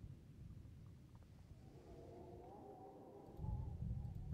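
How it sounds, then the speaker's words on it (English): A low, soft rumble of thunder from an approaching storm in Warcraft 3 rolls faintly in the distance, swelling slightly louder toward the end. "A storm is coming."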